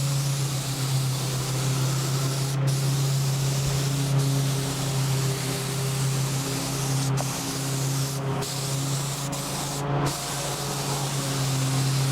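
Spray gun painting a Yamaha FZR motorcycle part outdoors in strong wind: a loud continuous hiss with a low steady hum beneath it, broken by a few brief pauses in the spray.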